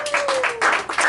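A comedy club audience claps and cheers for comedian Craig after his largely improvised one-man show, a short burst of applause from a small crowd.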